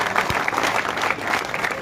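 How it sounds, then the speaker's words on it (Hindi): Steady applause from a crowd at a village election campaign rally, a dense continuous patter of clapping throughout with no pauses. "उनके लिए भी जोरदार तालियों से स्वागत"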